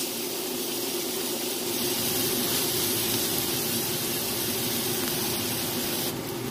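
Green onions sautéing in a pan, a steady close sizzle and hiss that runs without a break, with faint stirring under it and no talk.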